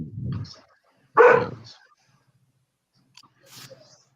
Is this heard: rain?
no